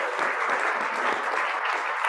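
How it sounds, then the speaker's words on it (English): A synagogue congregation at Shabbat evening services applauding a sixth grade class, a dense, even wash of clapping from a crowd, loud and continuous for a short burst. "can we begin with just a round of applause for our sixth grade class?"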